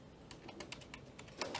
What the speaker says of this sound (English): Just tap a keyboard in his ear